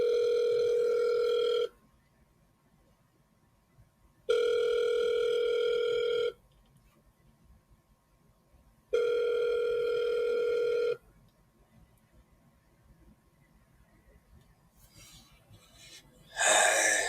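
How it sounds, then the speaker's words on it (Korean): An outgoing phone call rings three times, each a long, steady electronic tone of about two seconds separated by quiet pauses, followed by a brief click as the line picks up. "저희가 지금 직접 전화 한번 걸어 보겠습니다"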